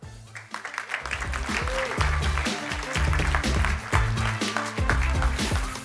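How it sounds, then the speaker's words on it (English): Applause from an event audience welcoming a panel of speakers, a dense wash of clapping that swells and holds steady over background music for several seconds. "could we please have a round of applause and a warm welcome for our market-leading panelists"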